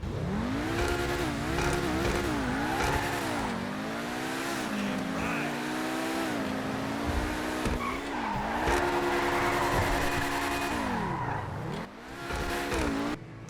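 A Lamborghini Countach-based sports car in GTA 5 Online revs hard through repeated rising and falling engine sweeps, with gear changes and squealing, skidding tires, all loud and up close, with no talk over it.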